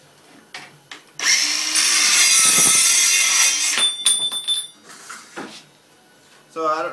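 Makita BCS550 18V LXT 5-3/8" cordless metal cutting saw slicing through conduit and pipe: a loud, sustained high-pitched whining cut of a few seconds, then shorter bursts and spin-down, with someone talking in between.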